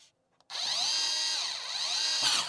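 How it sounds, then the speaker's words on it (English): Power screwdriver driving the cover screws on an IP PBX hardware unit: a short tap, then a sustained high-pitched motor whine that dips briefly in pitch and rises again, close and loud. "The last step: close the cover and fix all the screws."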